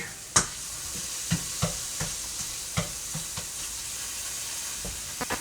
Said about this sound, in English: that sizzling was fantastic